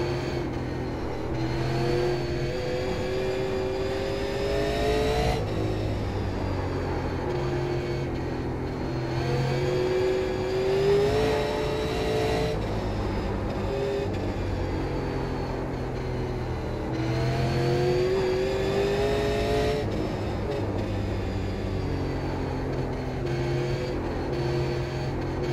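A super late model race car engine in iRacing at Oxford Plains drones loudly and continuously, its pitch rising and falling in repeated cycles as the car accelerates and lifts around the oval, with no talk.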